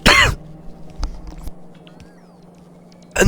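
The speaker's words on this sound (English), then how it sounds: "And then immediately cough into the microphone" A sharp, close cough bursts into the microphone, then quiet room hum follows with a few faint taps, and a second cough comes at the end.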